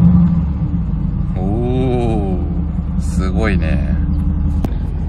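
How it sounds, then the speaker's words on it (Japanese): A supercar's engine, built with plenty of factory carbon-fibre parts, rumbles steadily at close range after starting, with a deep low drone running underneath people's excited talk. "じゃあ、エンジンスタートしてみまーす。"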